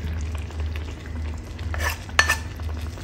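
Chicken turned over in a pot on high flame, steady low cooking hiss under a few scraping stirs and a sharp utensil clink near the end.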